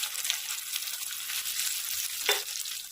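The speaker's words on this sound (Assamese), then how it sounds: "আৰু অকণমান এতিয়া ভাজিব লাগিব" Dried jackfruit pieces fry in hot oil for a jackfruit pickle, giving a soft, steady crackling sizzle with no talk.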